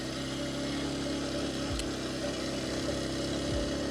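A Kawasaki KLX230S dirt bike runs steadily on a trail ride to Toad Lake, its engine a continuous mid-pitched drone with a couple of brief dips in pitch as the rider shifts or eases off.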